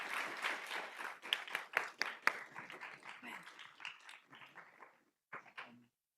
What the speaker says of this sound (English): Let's have one more round of applause for all the students.